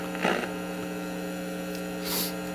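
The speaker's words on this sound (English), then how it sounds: "when you have the volume all the way down and it still hums, it is definitely the filter capacitor humming." Steady low mains-frequency hum from a faulty filter capacitor in a mid-1960s Admiral YG 531 AM FM tube radio, with the volume turned down, constant and close, broken by a couple of faint brief crackles.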